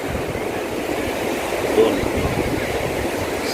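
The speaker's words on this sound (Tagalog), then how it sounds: "kita mo malakas na yung alon mula doon" Strong surf rolls in at a beach resort in Ivisan, Roxas City, Capiz, a steady broadband wash of breaking waves heard close, with a person speaking briefly over it.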